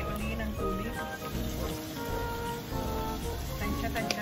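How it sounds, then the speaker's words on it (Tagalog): Steady hiss and crackle of a hot pan of chicken curry sizzling as water is added, with a voice talking faintly underneath. "Yan, magdagdag tayo uli ng tubig."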